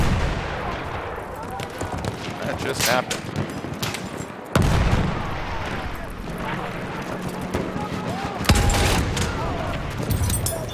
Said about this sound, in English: You got shot with a fucking artillery cannon